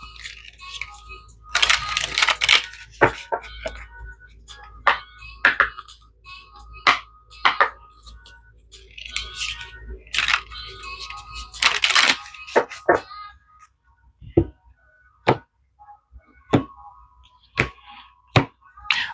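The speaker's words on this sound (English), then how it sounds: "I'm going to shuffle the rest of the deck just so I don't take up that time when we get into the reading." A deck of tarot cards shuffled up close, with clustered riffles and sharp taps of cards landing, ending in a run of separate crisp clicks.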